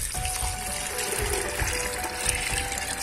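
Water is poured into a pressure cooker pot of corn kernels for chicken corn soup, a steady gushing flow running for several seconds.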